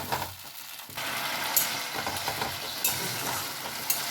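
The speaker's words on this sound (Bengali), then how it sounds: "টমেটো পেস্টটা দিয়ে একটু কষে নেব অল্প" Tomato paste being cooked down in a pan for a red egg curry, with a steady low sizzle and occasional spoon scrapes and stirring clicks close by; no one speaks.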